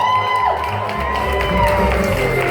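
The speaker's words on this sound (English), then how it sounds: "Can we have a round of applause for our costume contest people?" Applause, cheers and whoops from a nightclub crowd at a costume contest on a circus-themed stage, a loud continuous roar of clapping and shouting close by, with music running underneath.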